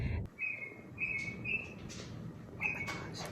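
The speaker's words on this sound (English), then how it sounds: "this bird just started singing outside" A bird sings outside, giving four short, faint, clear whistled notes at an uneven pace over a low background hiss.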